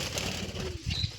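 Pigeons beat their wings in flight for a brief, soft flutter that sounds faint and somewhat distant.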